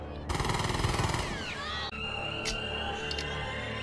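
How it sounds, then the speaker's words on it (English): Rapid machine-gun fire in The Terminator, a loud burst of dense repeated shots that cuts off abruptly, followed by ringing, whining tones and scattered sharp effects. "he's just shooting everybody now"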